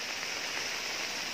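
Steady, dense rain hiss at an overflow weir during river fishing, loud and continuous with no individual drops standing out.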